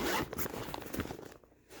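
Zipper drawn along the lid of a 22-litre framed stackable fabric storage bin, a close, loud rasping pull lasting over a second that fades to a quiet stop.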